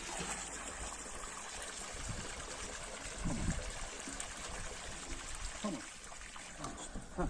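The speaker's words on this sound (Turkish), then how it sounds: "arazinin eğimine bağlı olarak bir miktar akıp gidecektir su" Irrigation water runs off down sloped ground in a pistachio orchard, making a steady broadband trickling stream with a few louder gushes, heard continuously with faint outdoor background.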